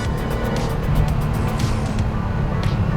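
A Porsche with a heavily modified 3.8-liter M64 flat-six engine drives hard through a corner after a downshift, its engine note loud and close with brief tire noise.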